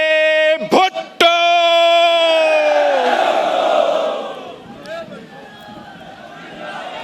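Large crowd at a Pakistani political rally for a politician, sustained loud chanting and cheering swelling after an opening voice, then a dense roar that fades to a steady murmur.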